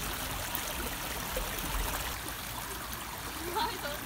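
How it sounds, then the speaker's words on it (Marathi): Water flows and trickles steadily in a natural hot spring pool in the Konkan region, a soft continuous burble with occasional small splashes. "हे बघा हे कुंडातलं पाणी"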